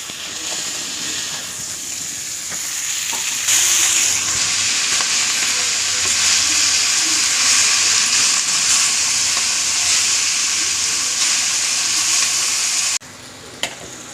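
Ponnanganni greens, tomato and green chilli fry in a pan and get stirred, giving a steady loud sizzle and hiss with occasional scraping. The sizzle swells partway through, and there are no voices.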